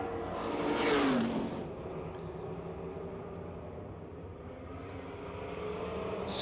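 Crate Late Model race cars roar through a seven-lap heat race at Pennsylvania Motor Speedway, a distant engine drone swelling as a car passes, then settling into a continuous low rumble.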